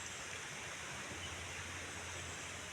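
Bibit Falls heard from a bridge as a steady, even rush of falling water, continuous and fairly faint with a low hum underneath, no talking.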